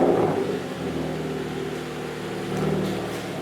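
A 2016 Dodge Dart engine with a low-boost tune and intercooler build idles steadily and loudly up close after its first startup, a continuous rumbling drone with slight rises in pitch.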